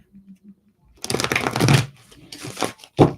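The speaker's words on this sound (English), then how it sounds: "Give these cards a nice little shuffle." A deck of cards is riffled and shuffled up close, crisp fluttering bursts after a few soft murmurs at the start.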